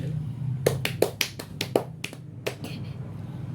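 A class of young pupils claps in a short patterned rhythm, about a dozen sharp, fairly close claps in a quick sequence, ending in a few scattered claps. No talking is heard.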